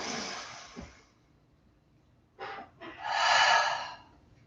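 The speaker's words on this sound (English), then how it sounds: "Deep inhale. And then exhale." Deep breathing during a yoga session: a long exhale, then a quiet pause, a sharp inhale and a long, strong breath out, close and clear without talk.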